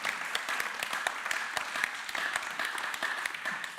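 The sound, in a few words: audience clapping loudly for a speaker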